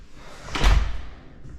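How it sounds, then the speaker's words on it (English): Front door with shades built into it swinging open, a single soft whoosh and low thump lasting about a second, heard alone without talk. "So let's go in through our front door."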